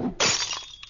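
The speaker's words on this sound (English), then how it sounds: "Bag of glass falling next to a goose." A bag of glass drops and shatters in one sudden loud crash, followed by a brief scatter of tinkling shards settling, with no voices.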